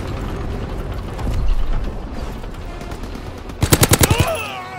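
Sustained gunfire in Call of Duty: WW2 amid a noisy battlefield, ending in a close, rapid burst of about seven evenly spaced shots with mechanical clatter.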